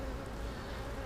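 Honey bees buzzing steadily around a backyard hive, a close, continuous insect drone with no talk.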